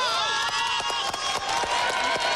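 An arena crowd at the 1995 World Gymnastics Championships balance beam final roars and applauds a 9.9 score, dense cheering with scattered clapping and bright whistles, a loud sustained wash of noise throughout.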